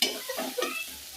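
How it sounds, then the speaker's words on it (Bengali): Chopped onions are frying and being stirred in a pan, with a close, soft sizzle broken by a few scraping strokes of the spatula, no voices. "পেঁয়াজ কুচিগুলো ভালো করে ভাজা নিব। তো আগে ভাজা নিই, তো ভাজা হতে থাক।"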